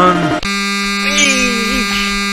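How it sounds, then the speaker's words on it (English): An American Dad video game crashes with a loud, harsh buzzing tone. It cuts off briefly, then returns as a sustained drone with warbling pitched layers. "This is the sound of the game crashing."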